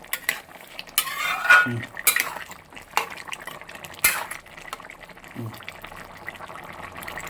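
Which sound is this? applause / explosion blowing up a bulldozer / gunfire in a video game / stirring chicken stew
stirring chicken stew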